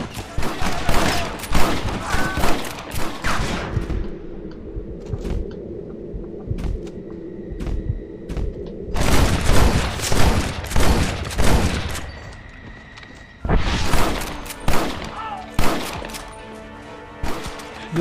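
Rapid Gatling gun fire in the Red Dead Redemption game, loud bursts of dense shots in several long volleys separated by quieter gaps with lingering tones and ambient battle noise.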